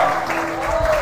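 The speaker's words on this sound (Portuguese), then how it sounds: "Você pode dar a melhor salva de palmas que você pode a Ele." A church congregation claps together in a brief, dense burst of applause, with a voice talking over it.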